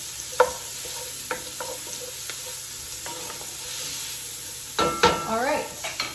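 Onions sizzle and fry steadily in a soup pot on medium heat, with a few sharp scrapes and clinks from stirring and a busier burst of stirring near the end; no one speaks.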